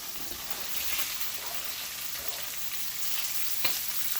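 Onions dropped into a hot pan still greasy from searing steak bites, sizzling in a steady close hiss with faint stirring clicks and no talk.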